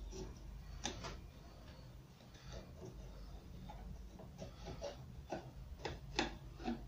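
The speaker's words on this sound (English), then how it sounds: "And then I'll scribe down there." A tool scribes a line on wood while fitting a pigeon-hole shoe storage bench in a hallway, producing faint, close scratchy ticks in an irregular series over a low room hum, with no talk.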